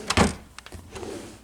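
A drawer in a hotel room nightstand slides open with a soft thunk near the start, followed by lighter knocks and quiet room noise, close by and with no talking.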